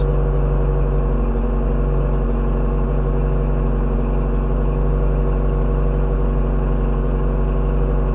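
A Geo Tracker engine idles steadily at close range, a low, even hum with a constant drone and no clear revving, running alone without voices.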